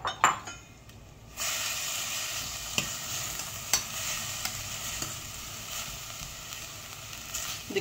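Onions and green chilies drop into hot oil for a curry and fry with a sudden loud sizzle that settles into a steady hiss, punctuated by occasional clinks of a utensil against the pan, with no talking.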